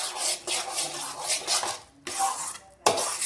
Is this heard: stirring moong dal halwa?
yes